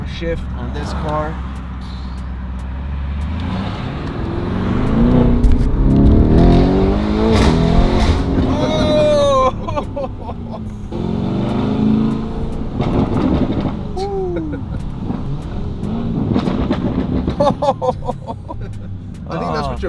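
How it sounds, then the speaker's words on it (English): A Lamborghini Urus SUV engine in Corsa mode revs and downshifts with rising and falling engine tones and sharp blips, loud and close from inside the car, while people talk throughout. "The downshift on this car."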